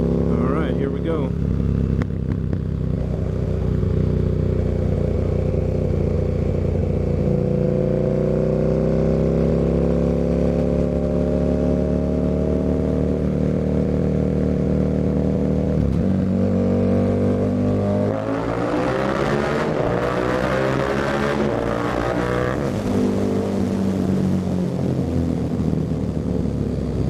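A KTM 1290 Super Duke fitted with an Austin Racing exhaust roars through a tunnel, its loud engine note echoing and rising in pitch as it revs and passes by close, continuous throughout.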